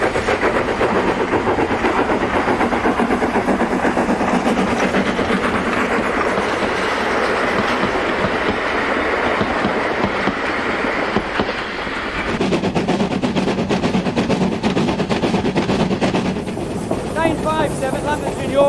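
A Lancashire and Yorkshire Railway steam locomotive, No. 957, rumbles and clatters steadily along the track close by, a continuous loud mechanical roar with rhythmic wheel noise that shifts tone partway through.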